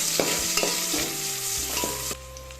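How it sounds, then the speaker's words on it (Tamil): Two onions are sautéed in a pan with bay leaf and spices while making a chicken gravy, giving a steady sizzle with several short scraping stirs of a spoon against the pan and no talking. "இப்போ இதோட ஒரு 2 வெங்காயம், கொஞ்சம் நல்லா வதக்கிட்டு"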